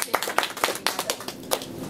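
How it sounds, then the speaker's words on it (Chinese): Lecture audience at a talk on Ming and Qing porcelain appraisal gives scattered, sparse hand claps. About seven separate, fairly faint claps spread over two seconds, with no steady wall of applause. "给点掌声。"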